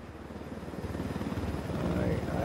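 Helicopters in the video game Ghost Recon Wildlands, a steady rapid rotor chop that grows louder and fuller toward the end, with a voice speaking over the engine drone.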